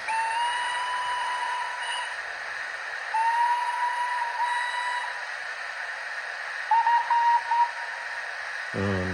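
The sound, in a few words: model train steam whistles from a sound decoder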